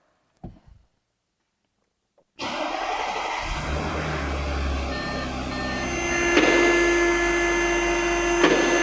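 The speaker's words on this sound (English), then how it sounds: "So we're going to start the car up right now." A B8.5 Audi S4 with a 7-speed DSG is started during a transmission service: a brief crank after near-silence, then the engine catches and settles into a steady, loud idle that swells slightly, with some high whine.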